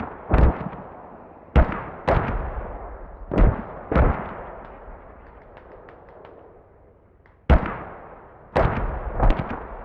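Mortar fire in the military shooter Squad lands as a string of heavy booming blasts, about eight irregular thuds, each trailing off in a long rumbling echo across the open battlefield.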